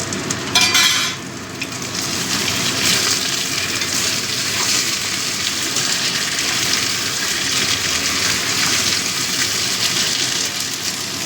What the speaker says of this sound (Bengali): এবার আমি দিয়ে দিচ্ছি টমেটো কুচি